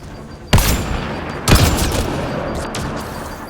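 Grenade blasts in the Mass Effect: Andromeda video game: two loud, heavy booms about a second apart, each with a rumbling tail that lingers under ongoing combat noise.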